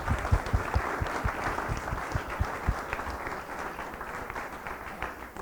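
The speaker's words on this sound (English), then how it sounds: "let's give our panelists a big round of applause for sharing with us today" An audience claps for panelists after a class session, with dense applause that starts strong and tapers slightly while continuing to the end.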